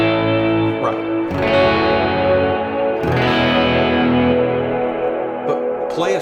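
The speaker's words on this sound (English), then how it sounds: "this reverb's so long, right?" Sustained electric guitar chords played through a Kemper profiler with a very long ambient reverb, two strummed chords blooming and washing out into a thick, shimmering tail that rings on continuously.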